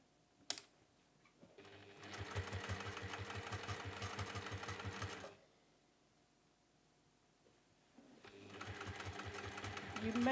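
A sewing machine stitches through several layers of a folded pinwheel cushion cover in two steady bursts, a close rhythmic whirring run, a pause, then it starts again.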